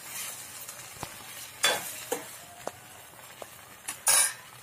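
Spiced goat brain fry being stirred in a pan with chilli powder, giving a few separate scraping and clinking strokes over a faint background sizzle, close by with no talk.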